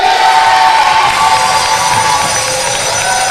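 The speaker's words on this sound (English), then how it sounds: "Great cheer from the crowd." A netball crowd cheers loudly and continuously, a dense wash of shouting and high-pitched voices with no pause.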